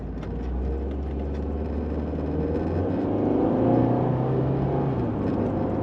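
Fiat car heard from inside while driving, a steady low engine drone and road rumble that swells slightly as it pulls along, with no talk.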